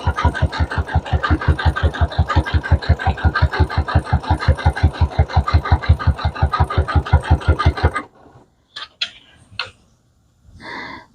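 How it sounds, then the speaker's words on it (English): A sewing machine stitches a fabric tube with batting for a jelly roll rug, a fast steady run of loud, even needle strokes for about eight seconds, then stops, leaving a few faint handling clicks and rustles. "and continue sewing."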